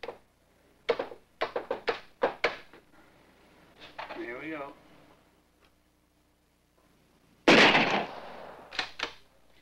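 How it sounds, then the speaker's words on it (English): Sharp gunshot of a bullet fired at a target in a high-speed strobe photography setup, a single loud crack ringing out after a series of short clicks and ticks, with faint voices nearby. "A first shot will test Dr. Edgerton's aim."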